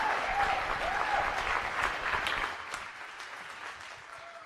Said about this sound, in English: Huge round of applause for Robert Nava.